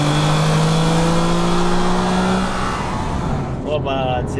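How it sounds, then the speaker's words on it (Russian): A VAZ 2112 engine revs hard and close, then falls off, and near the end it hits the rev limiter with a quick stuttering burst of cut-outs. "Опа, отсечку поймал."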